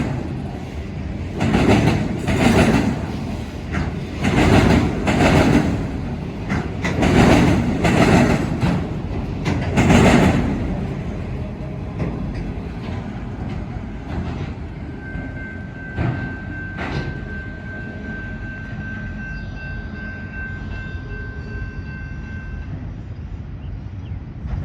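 A Norfolk Southern freight train hauling auto racks rolls past nearby, with rhythmic clattering wheel beats over rail joints for the first ten seconds that fade into a lower rumble and a thin sustained squeal.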